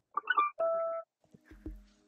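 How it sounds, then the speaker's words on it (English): Short guitar texture sample from Apple Guitar, a few quiet, clipped tonal notes followed by a brief gap and a lower plucked note that decays quickly. "So this next sound is this guitar texture. It sounds like this."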